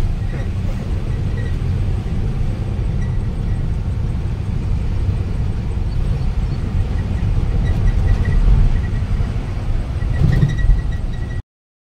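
An unloaded truck drives along the road toward Kolhapur, its engine and tyres giving a loud, continuous low rumble with road noise that holds steady throughout and cuts off abruptly at the end.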